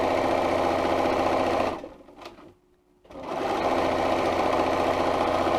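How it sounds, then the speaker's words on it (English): A sewing machine stitches a seam in a steady, loud, rapid whir. It pauses briefly near the middle and then resumes at the same pace. "So I'm just going to sew along here."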